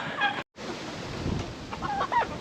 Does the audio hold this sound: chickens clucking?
yes